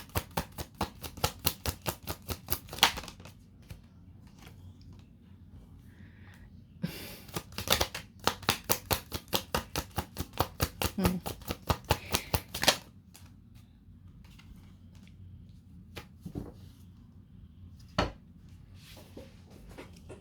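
Tarot cards are shuffled by hand in quick crisp riffling bursts of rapid flicks, several rounds separated by quieter pauses, close and with no speech over them.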